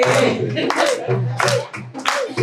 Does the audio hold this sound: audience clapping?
yes